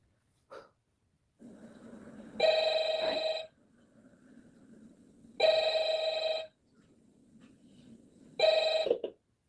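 A telephone in Five Nights at Freddy's rings at the start of the night 3 call. Three loud, even bursts of bright electronic ringing are separated by quiet pauses with a soft, low background hum.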